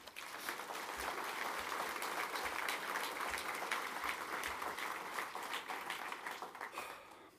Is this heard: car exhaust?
no